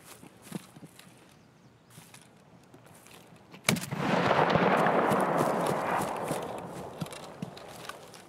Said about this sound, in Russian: И это очень странная граната.